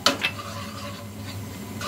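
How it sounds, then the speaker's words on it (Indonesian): Garlic dropped into hot margarine in a frying pan over medium heat, giving a short clatter of a utensil on the pan followed by a faint, steady sizzle with no talking. "Bawang putih aku masukkan."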